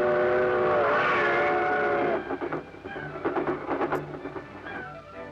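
A 1930s passenger train pulls out of a station with rumbling and clanking wagons, preceded by a sustained whistle-like tone, heard at a moderate distance.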